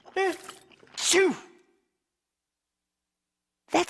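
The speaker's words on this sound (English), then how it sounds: "That's one big sneeze." A cartoon character lets out a big sneeze, with a voice performing the sneeze. A sharp inhaled build-up is followed by a loud burst, then a pause of silence before another voice sound starts.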